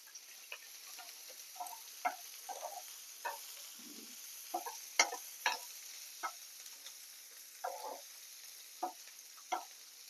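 Green chili and two medium onions fry in a pan after tempering spices have crackled, giving faint, sparse ticking pops and soft sizzles at irregular intervals with no talking.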